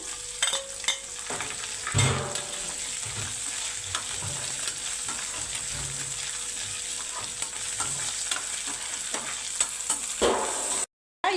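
Curry leaves fry in a pan of oil with ginger-garlic paste, giving a steady, close sizzle with occasional stirring scrapes and brief louder crackles, no voices.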